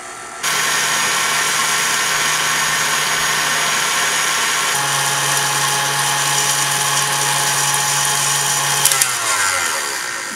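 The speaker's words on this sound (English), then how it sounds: "So it looks like our meringue is done whipping." An electric mixer whips meringue with a loud, steady high-pitched whirring buzz close by, shifting slightly in tone midway and winding down near the end.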